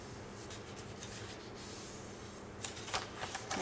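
Paper collage strips for a scrapbook album page being folded all in one direction, a soft steady papery rubbing and shuffling that ends in several sharper creasing crackles close by.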